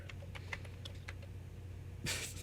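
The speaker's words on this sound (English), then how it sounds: "I like the typing sound." Rapid, light keyboard typing clicks from a video game tap out in a quick irregular patter, ending with a brighter burst of sound.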